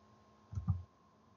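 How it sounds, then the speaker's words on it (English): Two quick, soft clicks close together in a quiet room, like a mouse button being pressed. "I right mouse click and add data display and mean connection line."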